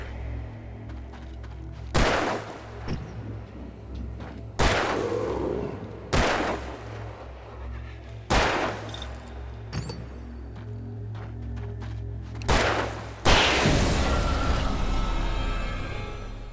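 Sharp, loud gunshots in Alan Wake ring out one at a time at irregular intervals, about seven in total. Each blast is followed by a brief tail, and the last one swells into a heavier, sustained roar.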